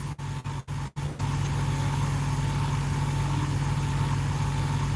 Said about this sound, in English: the guy next to me that was idling his truck